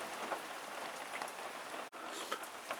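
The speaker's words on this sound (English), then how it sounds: "as it's raining on them into the crown, the water's getting changed all the time" Rain falls steadily onto potted orchid plants, including Phragmipediums, a soft continuous patter of drops close by with brief louder splashes and no speech.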